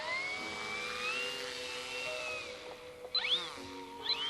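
The electric motor and propeller of a Seawind RC model seaplane whine and whir at moderate distance, pitch sliding up and down as the throttle changes, with two sharp rising surges near the end.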